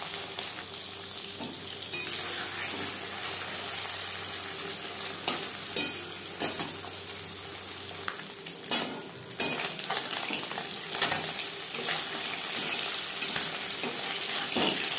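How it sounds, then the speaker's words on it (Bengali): Puti fish coated in salt and turmeric sizzle and crackle steadily in hot refined oil, a dense continuous frying hiss with occasional sharper pops, no voices over it. "এবার দিয়ে দেব লবণ হলুদ মেখে রাখা মাছ"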